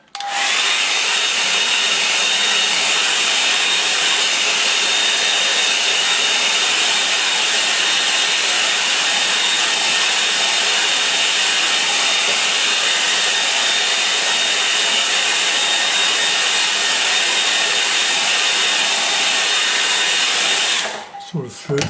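A hair dryer or similar blower dries a wet watercolour painting of the Norfolk coast, a steady loud broadband whoosh running without a break for about twenty seconds before cutting off abruptly at the end.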